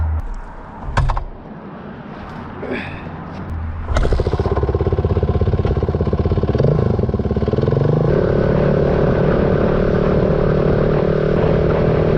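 A motorcycle with non-working lights starts with a few clanks and knocks, then its engine settles into a close, loud, steady idle that rises slightly in pitch toward the end.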